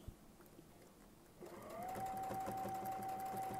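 A sewing machine stitching a quilt border with a Westalee ruler starts up after a soft knock and settles into a steady, close, humming whir with a constant whine.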